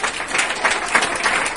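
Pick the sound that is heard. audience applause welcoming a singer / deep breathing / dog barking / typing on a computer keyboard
audience applause welcoming a singer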